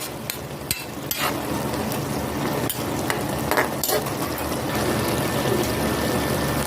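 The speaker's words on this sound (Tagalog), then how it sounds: "kumukulo na po" Adobong kangkong sauce with oyster sauce and tofu bubbles and sizzles steadily in a pan, with a few sharp clicks and clatters of a utensil.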